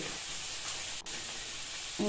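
Fish frying in a pan beside a pot of broken-rice dish, giving a steady broadband sizzle close by for about two seconds, with a brief scrape or stir near the end.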